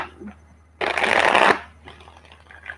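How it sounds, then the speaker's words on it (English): A quick riffle of tarot cards being shuffled, one dense burst lasting under a second, followed by quieter handling noises. "One more shuffle."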